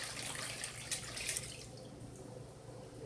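Water kefir with juju berries and apricots being strained, a steady close trickle and splash of liquid with a few brief drips, fading slightly toward the end.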